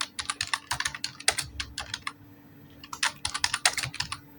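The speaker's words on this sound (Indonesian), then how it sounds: "Tekan 1 kali caps lock yang ada di keyboard, lalu ketikkan agar mendapatkan huruf kapital." Rapid bursts of keystrokes on a computer keyboard as text is typed in a word processor, close and crisp, with a short pause midway before the tapping resumes; no talking.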